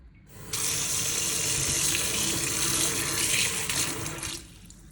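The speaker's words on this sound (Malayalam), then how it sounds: "മുന്തിരി ഞാൻ കഴുകി വൃത്തിയാക്കി" Tap water running over grapes being washed in a sink, a loud, steady splashing gush that starts abruptly and stops after about four seconds.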